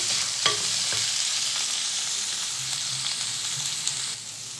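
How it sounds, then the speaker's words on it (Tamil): Chili powder and turmeric are stirred into a frying curry with bottle gourd, giving a steady, close sizzle with occasional soft spoon scrapes throughout. "சேர்த்துட்டு இதை நம்ம கிளறி கொடுக்கலாம்."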